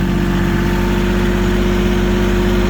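Tractor engine running in low gear pulling out of mud, a loud, steady close-up diesel drone with a constant low throb and no change in pace.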